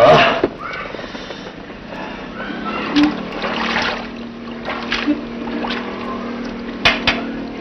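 Water splashing and trickling with a steady wash, fairly close, marked by a few sharper splashes and brief voice sounds.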